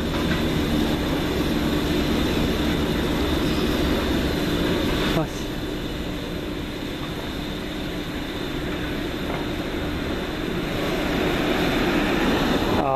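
A diesel locomotive on a heritage railway, a steady loud engine drone with rolling rail rumble throughout, faint voices mixed in.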